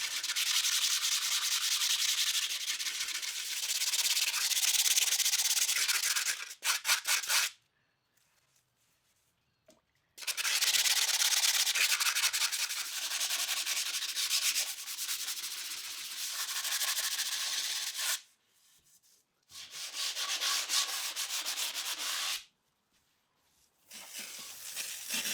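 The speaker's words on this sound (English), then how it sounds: "I needed to sand the whole thing to make it look even" A concrete basin sanded by hand, a steady, close, gritty rubbing in long continuous stretches broken by short silent pauses.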